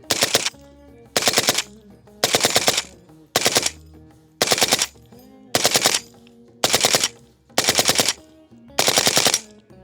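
A Colt LMG light machine gun fires nine loud, evenly spaced bursts of rapid automatic shots at a controllable, lower rate of fire, each burst separated by brief pauses.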